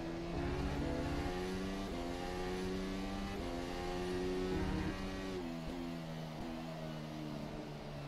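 ACR Zakspeed Formula 1 car in rFactor 2 lapping Paul Ricard, its engine screaming steadily at high revs with brief dips and climbs at gear shifts, close and loud, no talking.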